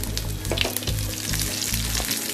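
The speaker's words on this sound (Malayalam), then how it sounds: "പാൻ വെച്ച് വെളിച്ചെണ്ണ ഒഴിച്ചു കൊടുക്കാം. കടുക് ഇട്ട് കൊടുക്കാം. കറിവേപ്പില ഇടാം." Mustard seeds and curry leaves frying in hot coconut oil in a pan for Kerala-style ulli theeyal, a dense continuous sizzle with crackling pops, loud and close.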